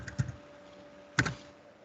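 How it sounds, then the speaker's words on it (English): Two short bursts of clattering key presses on a computer keyboard, close and crisp, separated by a quiet gap with a faint steady hum behind. "I'm just typing this."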